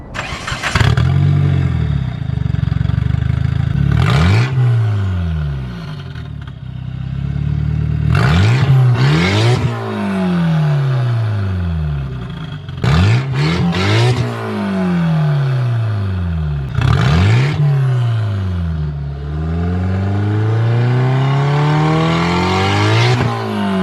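A Mitsubishi Eclipse GSX with an aftermarket Megan Racing downpipe revs hard repeatedly outdoors, each throaty rise and fall of the aggressive exhaust roaring loud and close, with a brief idle between pulls.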